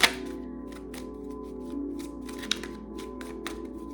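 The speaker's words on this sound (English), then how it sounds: "This deck is bringing different energy here. Shuffling for Taurus." A tarot card deck is shuffled nearby, producing a run of crisp, evenly spaced riffling clicks and flutters at a steady pace over a low background hum.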